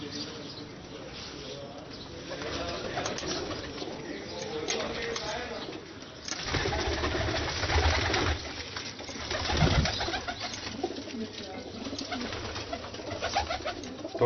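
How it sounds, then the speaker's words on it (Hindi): Ali Wale breed pigeons coo in a breeder's cage, soft repeated low coos and rustling among the birds over a steady background, with a few faint chirps scattered throughout. "और ये कबूतर हैं अली वाले"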